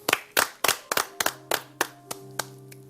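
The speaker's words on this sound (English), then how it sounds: "A round of applause for the one and only Dr." Scattered hand claps from a small audience greeting a comedy show guest, about ten distinct claps in an uneven rhythm that thins out, with faint sustained tones underneath.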